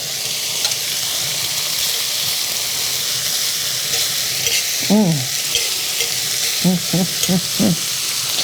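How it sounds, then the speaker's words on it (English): Bacon sizzles steadily in a brand-new Staub enameled cast iron skillet, a loud continuous frying hiss with a few brief voice sounds partway through. "that's how we start off a brand new Staub enameled cast iron skillet with cooking bacon"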